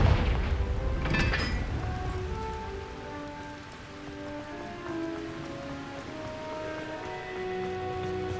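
Confringo blasting spell explosion in the Hogwarts Legacy video game: a loud burst about a second in, followed by a rumbling tail and magical tonal shimmer over steady game background.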